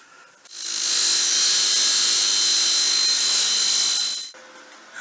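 Power saw cutting a fresh metal piece for a garden gate rebuild: a loud, steady high-pitched whine and grind running about four seconds, starting and stopping abruptly, with no talk.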